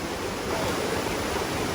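A cold mountain stream at a trail water crossing on a hike up Jefferson via Castle Ravine, a steady broadband rush of flowing water, close and continuous with no voices.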